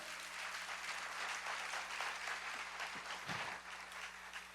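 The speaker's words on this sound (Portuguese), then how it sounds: "Aplauda ao Senhor." A church congregation claps together in faint, distant-sounding applause lasting several seconds, carried over a steady electrical hum.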